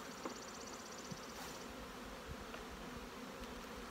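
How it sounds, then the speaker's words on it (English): Honey bees buzzing steadily in a hive box during a hive split, a dense, continuous hum that stays even throughout, faint and unbroken, with no voices. "All the bees are in the bottom box now."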